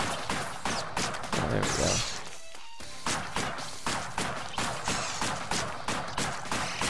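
Gunfire while shooting enemies in the video game Blades X: rapid, evenly spaced loud shots rattle in a steady burst with a brief gap partway through, and a voice speaks briefly over them.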